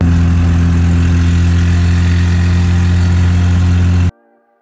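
A Mazda RX7 rotary engine idles with a blown exhaust manifold gasket, a loud, steady, close droning hum that holds for about four seconds and then cuts off abruptly.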